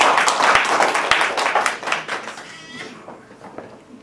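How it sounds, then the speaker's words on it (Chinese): Applause from a church congregation welcoming a pastor at a special meeting, dense clapping fading out over the last second and a half, with a few sharp transients. "我们现在给郭牧师一个掌声"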